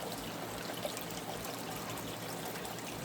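Fresh water from a dehumidifier hose trickles steadily into a backyard pond creek, a soft continuous splashing and babbling with no pauses, fairly close and alone.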